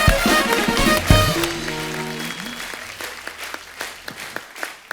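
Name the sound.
studio audience applause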